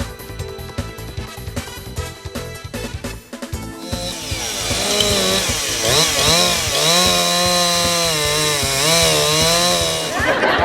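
A chainsaw roars at a lumberjack show, first choppy and revving, then settling into a loud sustained whine as it cuts through wood, up close.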